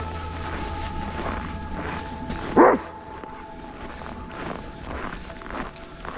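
At a dog park, a dog lets out a single sharp bark amid faint footsteps and soft outdoor ambience.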